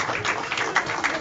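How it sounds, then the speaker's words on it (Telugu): An audience at a church gospel gathering applauds to welcome Dr. Doug Ryder, with brief, dense clapping that stays steady and fairly close. "అందరూ చప్పట్లు కొట్టి రైటర్ గారిని ఆహ్వానించుకుందాం."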